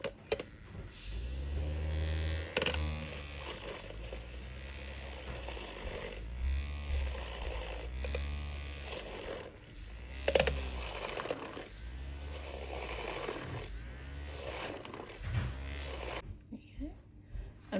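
Makeup brush spinner whirring a brush in water, repeated rhythmic mechanical pulses rising and falling in short cycles at moderate level.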